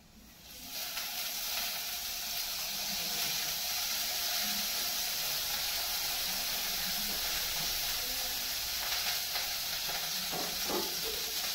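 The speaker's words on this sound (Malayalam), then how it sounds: "പുകയൊക്കെ വന്നിട്ട് നമുക്ക് ഇനി ഓയിൽ ഇട്ട് കൊടുക്കാം കേട്ടോ." Oil sizzles in a hot, smoking pan as a Kerala-style fish head curry gets started, a steady bright hiss that holds evenly and close throughout.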